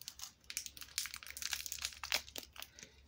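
Crinkly plastic of a Beyblade X booster bag being cut open with scissors, a close, busy run of rustles and small snips lasting a few seconds with no talking.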